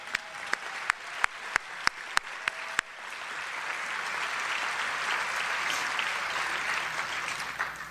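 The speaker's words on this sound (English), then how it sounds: "A round of applause for my family" A town hall audience applauds the congresswoman's family: a few sharp, evenly spaced claps from nearby hands, then a broad wash of crowd applause swelling and continuing steadily.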